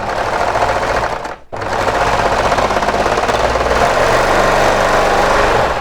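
Sewing machine stitching a strap onto a knit t-shirt, a loud rapid mechanical chatter that runs continuously, breaks off briefly, then resumes steadily.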